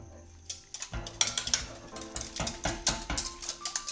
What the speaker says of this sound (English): I'm gonna do a proper whisk.